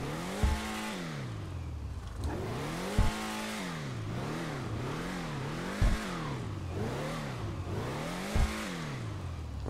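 Hotring Everon race car in GTA Online, its engine revving up and down in repeated rising and falling sweeps with turbo whoosh, plus sharp thumps at regular intervals, heard from inside.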